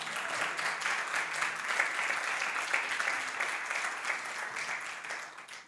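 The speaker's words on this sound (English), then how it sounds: "a round of applause to them, please" Moderate, continuous applause from an audience at an art biennial stage event for the curatorial team, evenly sustained with distinct claps and no voices.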